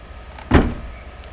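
A car trunk lid is shut during body panel realignment: one solid, close thump with a short rattle that fades quickly against quiet background.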